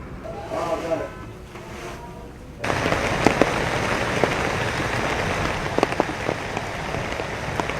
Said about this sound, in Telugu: కుండపోతగా కురిసిన వర్షానికి రహదారులు జలమయమయ్యాయి.